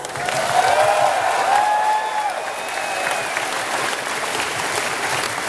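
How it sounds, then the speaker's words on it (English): Audience applause from a crowd at a fan convention talent show, steady dense clapping with a few cheers, loud at first and then holding level for the rest of the stretch. "Can you give them a round of applause?"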